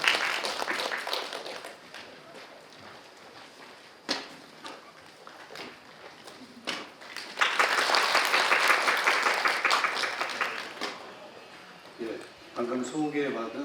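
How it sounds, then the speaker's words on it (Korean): An audience at a school violence response committee training session in Daejeon claps to welcome a speaker, scattered applause that swells loudly midway then fades, with some talk around it. "큰 박수로 맞이해 주시기 바랍니다."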